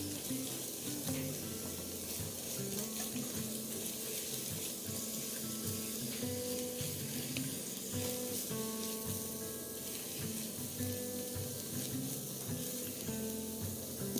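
Celery cooking down in a hot pot for butternut squash soup, a steady close sizzle and bubbling hiss running unbroken, with faint scraping stirs now and then.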